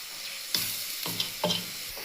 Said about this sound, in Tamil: இப்போ நம்ம எடுத்து வச்சுருக்கிற இந்த மசாலாவை போட்டு நம்ம அதில் கிண்டிடுவோம்